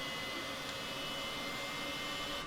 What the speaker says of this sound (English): Let's get close to the engine so you can really hear this.